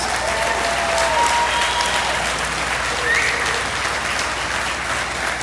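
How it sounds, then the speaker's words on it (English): Sustained crowd applause greets city officials at the Musikfest 2022 opening ceremony, a steady dense wash of clapping from a large outdoor audience at even loudness throughout. "Please give them a hearty round of applause"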